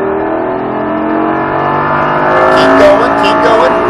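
A Lamborghini Gallardo at full throttle on a driving course, its engine note climbing loud and close as it pulls hard, with an instructor's voice talking over the rising roar.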